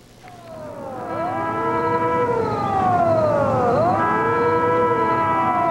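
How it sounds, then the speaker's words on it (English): Navy warning sirens wail ahead of a detonation to dispose of out-of-date munitions, several overlapping rising and falling tones sweeping together, loud and sustained with no talking. "The sirens warn everyone to stay clear."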